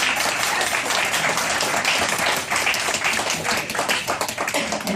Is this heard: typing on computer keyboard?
no